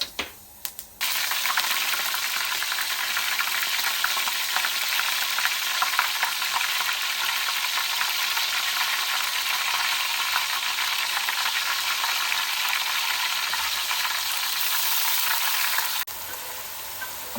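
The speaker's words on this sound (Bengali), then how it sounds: "বাটা মাছ রান্না করার জন্য তেলে প্রথমে দিয়ে দিয়েছিলাম একটু আস্ত জিরা তারপর দিলাম রসুন আর পেঁয়াজ বাটা" Cumin seeds, garlic and onion paste fry in oil for a Bata fish curry with tomato and green peas, a loud continuous hiss and sizzle that starts suddenly and holds steady for about fifteen seconds, close up with no voices.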